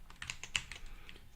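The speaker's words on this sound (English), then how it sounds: "Clicky sound. What keyboard?" Rapid clicky typing on a computer keyboard, with sharp, close keystrokes in an uneven quick rhythm and one louder key strike in the middle.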